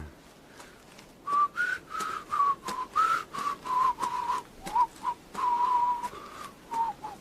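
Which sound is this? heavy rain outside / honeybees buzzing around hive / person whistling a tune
person whistling a tune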